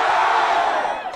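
A large crowd roars and cheers at a Raila Odinga protest rally in Nairobi, a dense wall of shouting voices that holds loud for about a second before easing slightly.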